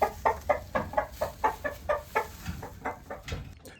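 Hens clucking in a chicken coop with nesting boxes, a steady, rhythmic series of short calls, close by and moderately loud, with a faint background hum.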